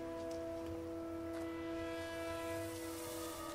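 Creaking trains in The Vanishing of Ethan Carter, heard as a steady tonal hum with drawn-out metallic groans and faint clanks beneath a continuous ambient bed, with no talking.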